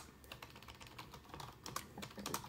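Rapid clatter of keys on an external computer keyboard hooked up to a GPD Win 3 handheld PC docked as a desktop, steady close-up typing with irregular clicks throughout and no voices.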